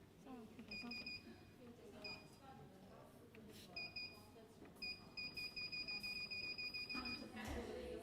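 A proofing chamber timer beeps repeatedly as it is set during a bread-making class, with short bright tones in separate bursts and a quick run of beeps near the end, over soft background voices and kitchen noise.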